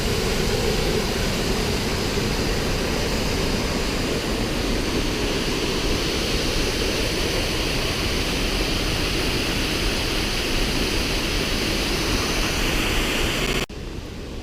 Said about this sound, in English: we're coming up to our second waterfall